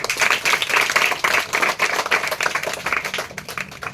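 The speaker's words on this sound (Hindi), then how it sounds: "जोरदार तालियां दीजिए।" A classroom of students claps loudly and steadily, dense overlapping applause filling the whole moment with no talking.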